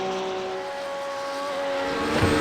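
Porsche race car in the iRacing simulator as the driver lifts off the throttle, a loud steady engine tone with layered harmonics that shifts and fades, then a rising rasp near the end.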